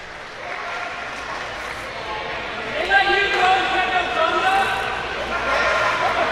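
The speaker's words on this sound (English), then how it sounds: "A nice round of applause for Michael Tarver" Wrestling crowd at a Florida Underground Wrestling show applauding Michael Tarver after his heavyweight title loss, sustained clapping mixed with crowd chatter and a few shouts, steady and moderately loud.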